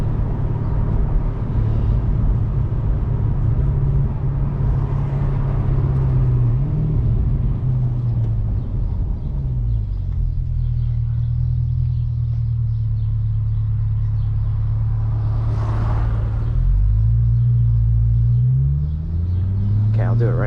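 Chevrolet C8 Corvette V8 driven hard on UK countryside B-roads, a loud continuous low engine rumble with rising and falling pitch sweeps as it accelerates and shifts, heard from inside the car throughout.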